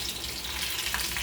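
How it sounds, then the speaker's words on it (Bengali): Fritters of besan and semolina batter fry in oil, making a dense, even hiss of bubbling close by. "বেসন দিয়ে, সুজি দিয়ে গোলা বানাইয়ে তারপরে ওটাকে করে ভাজা হচ্ছে"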